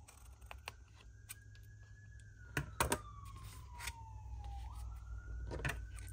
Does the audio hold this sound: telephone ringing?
no